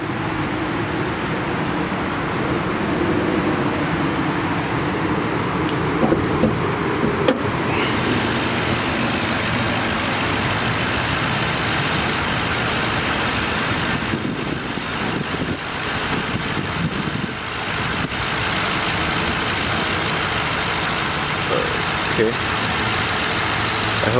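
A 2008 Ford Crown Victoria Police Interceptor V8 idles in a steady, smooth low rumble throughout, heard close with the hood open, while a person talks over it.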